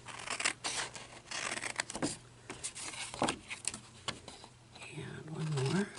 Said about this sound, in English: So I'll cut all 4 of these out here.